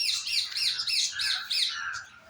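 A green parrot at a zoo gives a run of five or six shrill, rhythmic squawks, loud and close, then trails off into a softer call with no talk over it.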